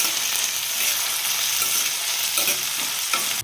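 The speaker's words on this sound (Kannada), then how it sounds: "ಲೋ ಫ್ಲೇಮಲ್ಲಿಟ್ಟು ಫ್ರೈ ಮಾಡಿ." Chopped onions frying in oil on a low flame in a pan for a Mane-style mutton pepper fry, giving a steady, even sizzle with faint stirring scrapes throughout, alone and without talk.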